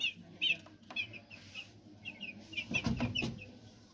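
Small chick, eight days old, being weighed on a kitchen scale, giving soft clucks and short high peeps close by, with a brief burst of wing flapping and scuffling partway through.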